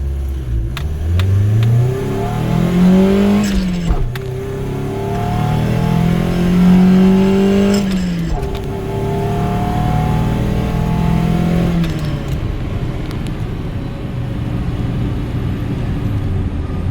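A Nissan 240SX pulls at full throttle in repeated surges, the engine note sweeping upward, dropping at each gear change, then climbing again. The car is loud and near at first and fades toward the end.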